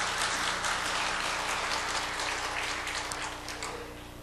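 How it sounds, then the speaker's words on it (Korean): A church audience at a mothers' prayer meeting applauds steadily for several seconds, a dense, even wash of clapping that fades slightly toward the end. "박수 한번 치세요"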